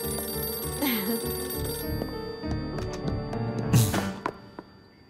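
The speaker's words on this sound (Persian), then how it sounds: "برا منه، تلفن منه، خودم جواب میدم" A telephone rings with repeated electronic trills, clear and fairly close, sounding over a low background hum.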